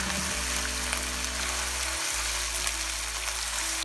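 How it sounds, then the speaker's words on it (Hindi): Ginger garlic paste frying in a pan with golden brown onions, a steady close sizzle with broadband crackle throughout, with no talking. "अब मैं इसमें लहसुन अदरक का पेस्ट ऐड कर दूंगी। आपने इसको अच्छे से भून लेंगे।"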